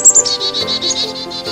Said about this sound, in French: C'est la mésange à tête noire.